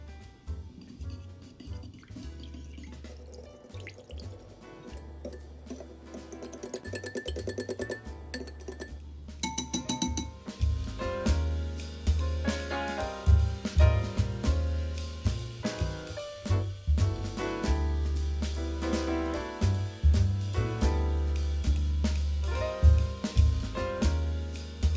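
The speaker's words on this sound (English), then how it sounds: "And 3/4 cup of milk. And we're gonna whisk it together." A milk mixture being whisked in a bowl, with rapid, uneven metallic clinks and taps against the bowl that grow busier and louder after a quieter start.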